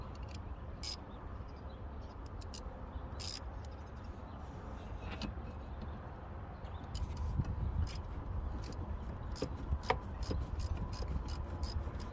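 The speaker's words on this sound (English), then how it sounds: "So I got my number 10 socket. We can open up that." A ratchet wrench with a number 10 socket loosens an AC hose fitting on a Nissan Pathfinder car; irregular light clicks sound close by over a steady, muffled background rumble.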